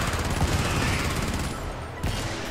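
Rapid automatic gunfire from a gun in the video game Helldivers, a dense continuous burst of shots with a short break near the end before firing resumes.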